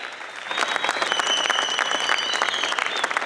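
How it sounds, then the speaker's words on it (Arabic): Studio audience applauding a trio of teachers from Béchar at the final of a cash-or-splash game show, dense steady clapping filling the room throughout with faint crowd noise. "عطوني تصفيقة كبيرة عليهم."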